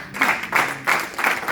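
A church congregation applauds at a worship service, the clapping coming in four short, even waves, close and fairly loud, with no voice over it.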